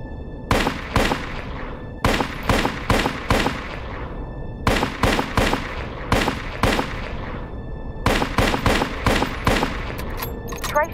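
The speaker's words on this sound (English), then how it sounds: "Try shooting at the target in front of you. Yeah. And I'm gonna use a pistol, I think." Repeated pistol shots fired at training targets in the Anime War video game, coming in tight bursts of three or four sharp cracks separated by short pauses, loud and close with no talk over them.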